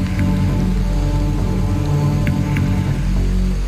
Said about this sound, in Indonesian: Tidak bisa nyalakan karena hujan. Oh iya, hujan ya.